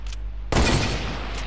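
Gunfire in Fortnite Battle Royale during a no-shotgun challenge match: a quiet lead-in with a low hum gives way to a loud, sustained burst of rapid shots that holds steady to the end.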